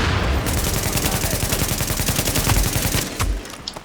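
Dense, continuous automatic gunfire and explosions fill a firefight in the video game Tom Clancy's The Division, a loud, unbroken barrage of overlapping shots with no talk heard.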